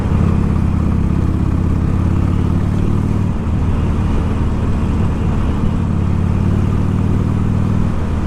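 A motorcycle engine revving while riding along narrow country lanes lined with high bushes, a steady, loud, low rumbling drone held close throughout with no voices.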